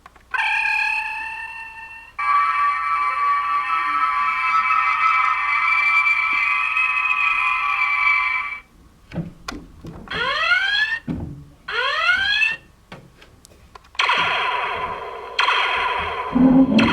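Electronic alarm tones and sci-fi effects from a Diamond Select Star Trek original-series Enterprise toy ship: a steady warbling alarm, then a run of rising sweeps and zaps, then a buzzy tone. Loud and close, with no talking.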